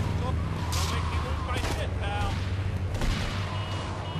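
Gunfire from the PSP game GTA Liberty City Stories crackles in a few sharp bursts amid dense game noise, with a voice talking over it.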